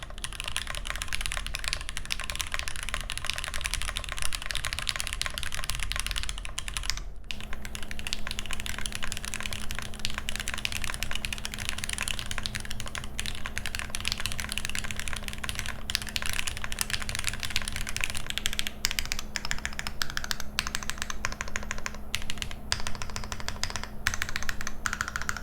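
Fast, steady typing on a Thera 75 mechanical keyboard fitted with PCB foam and a force break mod: dense, close clacking keystrokes that continue without pause and with no voices.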